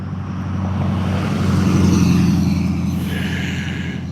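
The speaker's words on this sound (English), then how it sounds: "Oh, we got more loud trucks." Loud trucks rumble past on a nearby road, a heavy low engine drone that swells to a peak mid-way and then recedes, with traffic hiss and no voices over it.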